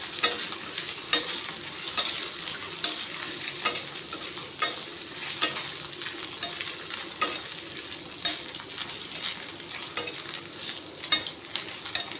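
Taro root pieces frying in hot oil give a steady close sizzle, broken by regular sharp scraping strokes of a stirring spoon in the pan, moderately loud and with no talking.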